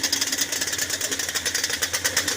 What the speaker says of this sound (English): The idle might be too high.